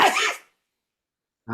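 A single sharp sneeze-like burst, followed by silence and then a brief voice.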